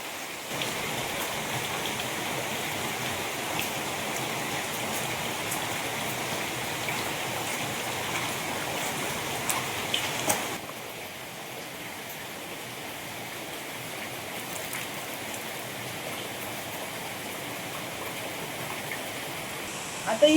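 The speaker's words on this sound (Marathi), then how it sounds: "मोठा पाऊस आला आणि आता मी भिजलीच आहे" Heavy monsoon rain pours down steadily and densely on the surroundings, a loud continuous hiss that eases slightly midway and keeps going throughout.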